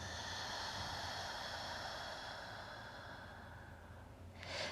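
A long, steady exhalation during a hatha yoga session, a soft airy hiss that fades gradually over several seconds, close to the microphone, ending with a brief louder breath.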